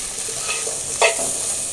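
Boiled chicken with masala being stirred in a pan for shawarma, a soft steady sizzle with a couple of brief scraping stirs, close and fairly loud, no talking.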